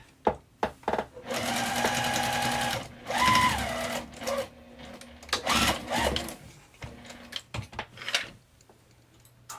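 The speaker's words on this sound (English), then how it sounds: "I'm going to sew it again. Okay. Now I'm going to back tack." A domestic sewing machine stitches a fabric wristlet in close, steady runs, stopping and restarting in short bursts as it reverses to back tack, with brief pauses and small clicks between passes.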